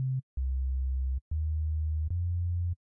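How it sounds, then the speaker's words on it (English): Pure, low sine-wave synth bass tones held in long steady notes, with short gaps between them and a brief higher note at the start, no voices. "honestly, it could just be a sine wave"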